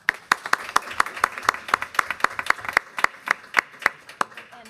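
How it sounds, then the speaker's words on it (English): Sparse clapping at a school board meeting, roughly twenty distinct claps from a few people in an even rhythm, close and loud in a quiet room. "Let's give Christy a round of applause."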